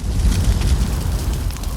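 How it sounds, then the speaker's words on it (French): A wildfire in the Peille valley flares up with a loud, continuous roaring rush, a dense broadband blast with deep rumble and crackling, close and sustained throughout. "le vallon du Peille subit un phénomène calorifique spectaculaire, proche de l'explosion"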